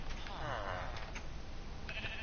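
A Minecraft sheep lets out a single short, wavering bleat near the start, with quiet game ambience around it while wolves are nearby.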